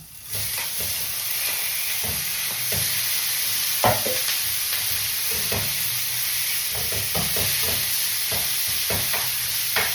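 Ground beef sizzles steadily in a hot pan while a utensil stirs and scrapes it at irregular moments, the frying hiss constant and close throughout with no talking.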